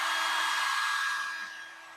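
Hair dryer blowing steadily to float a ping pong ball, a continuous airy roar with a whine that holds loud and then eases slightly toward the end, no voices.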